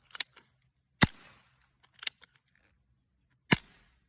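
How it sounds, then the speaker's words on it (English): A Barra 1858 BB pistol fires four sharp, loud, close shots, spaced unevenly over a few seconds, each a crisp crack with a brief ring-out, and faint handling clicks between them. "I'm gonna shoot this up real quick and then try some of the other ammo"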